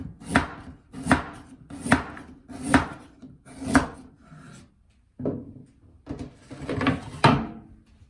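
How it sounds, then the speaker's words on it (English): A knife slices ginger thinly on a cutting board with about a dozen crisp, close chops in a steady rhythm, then a short pause before a few more cuts, with no voices. "This is ginger. Slice this thinly."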